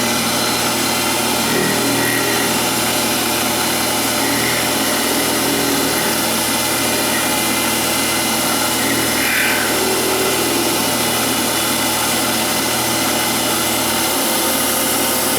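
Metal lathe facing off the end of stock at 2400 RPM with a Kyocera carbide insert, a loud constant machine drone with a steady cutting hiss throughout, no talking.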